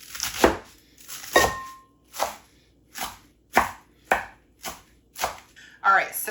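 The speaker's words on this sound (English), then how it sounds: "I am just going to kind of chop it, not super big, but not super small." A knife chops romaine lettuce for a salad base, giving about nine crisp, evenly spaced chops that sound close and clear, with no talking over them.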